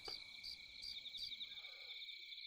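On a humid night in a visual novel game, a steady high chirring of insects or frogs drones faintly and continuously, with no voices.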